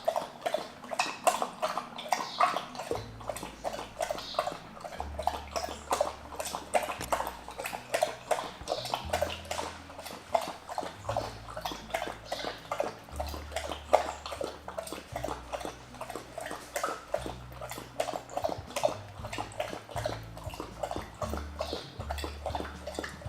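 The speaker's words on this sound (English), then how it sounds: "She came out and she drank water." A stray dog laps water in quick, rhythmic, wet splashes that go on steadily for a long stretch, close and fairly quiet, with faint low rumbles behind.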